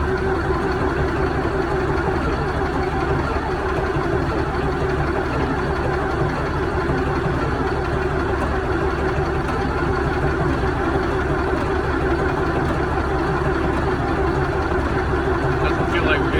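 An engine runs steadily with its throttle lever at the full position and backed off slightly, giving a constant low droning rumble that holds nearly unchanged, with someone talking over it.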